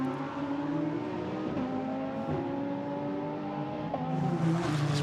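GT race cars at the Spa circuit roar past in a steady, sustained engine drone whose pitch shifts slightly as they accelerate, heard fairly close with no talking.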